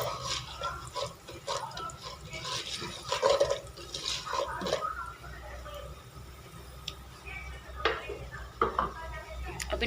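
A spoon stirs and scrapes in a pot while popcorn is being made at home, giving steady clinking and scraping close by, with a voice talking over part of it.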